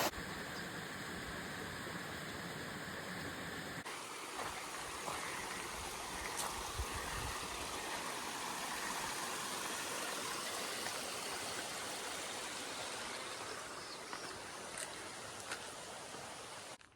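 Rushing water from a waterfall and flowing stream beside a mountain trail on the Appalachian Trail, a steady, dense wash of sound that runs continuously and fairly close throughout, with no talking.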